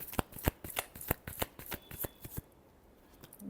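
Tarot cards being shuffled by hand during a reading, a quick run of crisp riffling flicks and slaps that stops partway, leaving near silence.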